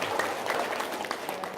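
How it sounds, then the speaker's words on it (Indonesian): Audience applause fills the room as a dense, steady wash of overlapping claps at moderate volume, with no clear voice on top. "Tepuk tangan dong."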